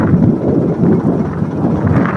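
Strong wind blows at sea aboard a fishing boat, a loud continuous buffeting rumble battering the microphone for a couple of seconds with no speech.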